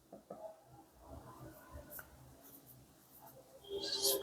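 Marker or chalk writing on a classroom board during a fitter theory lesson, heard as quiet, close scratchy strokes in irregular bursts, with a brighter squeak near the end and no talking.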